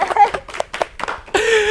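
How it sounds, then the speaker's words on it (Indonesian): An audience claps at a talk: a burst of applause swells in and holds steady near the end, right after a stretch of speech. "tepuk tangan dong teman-teman."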